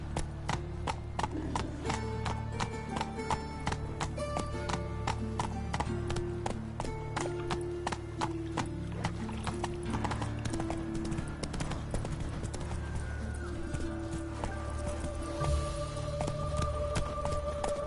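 Roach the horse gallops in The Witcher 3, a fast, regular patter of hoofbeats running throughout under a bed of game music and ambience.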